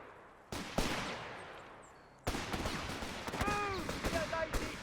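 Scattered rifle and machine-gun fire crackles in a Company of Heroes 3 battle, a few sharp shots and then a busier volley, with faint voices and whistling sounds under the shooting.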